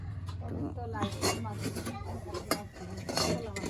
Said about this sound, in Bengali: এখন আবার আর একটু কড়াইতে নাড়াচাড়া করবো